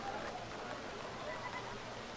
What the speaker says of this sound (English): You can hear how much rain is falling